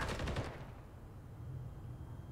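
Rapid automatic gunfire in Call of Duty MW3, a loud burst of quick repeated shots at the start that cuts off and leaves a low rumbling background.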